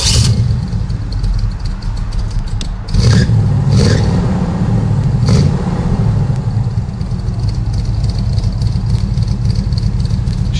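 A 1981 Pontiac Grand Prix engine in need of tuning cranks and clatters, then runs roughly with three sharp rev blips over a steady, slightly uneven idle, close and loud.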